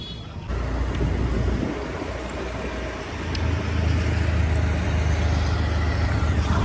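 A car driving along a road on a cool, breezy day, heard from inside as a steady engine and road rumble with wind noise that rises slightly in intensity partway through.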